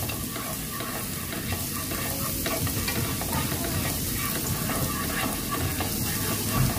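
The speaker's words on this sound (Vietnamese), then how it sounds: "Đó, mình phi cho nó thơm." Garlic and chili frying in hot oil in a pan for a vegan mushroom and pickled mustard greens stir-fry, a steady dense sizzle with stirring scrapes throughout, close and even, no voices.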